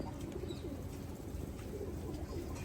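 A female Gorra pigeon coos softly amid steady, dense background noise, the low murmuring call close but partly buried under a constant hiss.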